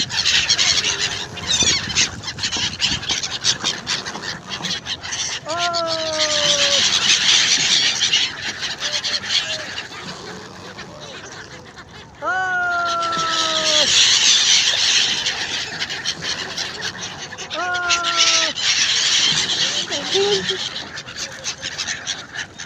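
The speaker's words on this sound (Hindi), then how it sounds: "साइबेरियन पक्षी" Flocks of Siberian migratory birds over the water at Banaras, giving repeated loud squealing, honking calls in several bursts, with a steady wash of crowd and boat noise throughout.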